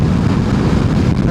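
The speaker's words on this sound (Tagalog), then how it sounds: "Malakas yung hangin. Masalubong." Loud, steady roar of a strong headwind buffeting the microphone on a moving motorcycle, constant and broadband throughout with no pauses.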